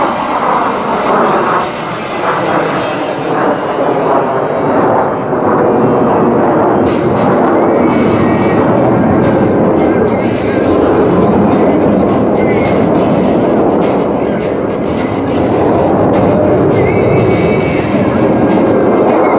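Formation of jet aircraft performing a roll and break at an air show, heard as a loud, continuous roaring rush that holds steady for the whole stretch.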